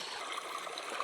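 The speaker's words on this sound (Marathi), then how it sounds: "बघा इथं पाणी चालू आहे ज्वारीला" Irrigation water runs steadily through a channel in a sorghum field, a soft continuous trickling and gurgling heard close up and alone.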